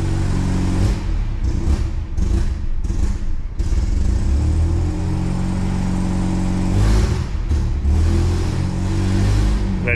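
An irrigation pump engine on a Fenland farm runs loudly and steadily at close range, with several sharp revs early on before settling into a rough, continuous idle that swells again near the end.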